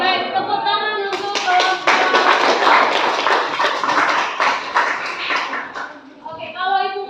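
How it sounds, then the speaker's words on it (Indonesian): A classroom group claps together in a dense, lively burst during a school lesson, with talk before and after the clapping. "tepuk tangan untuk"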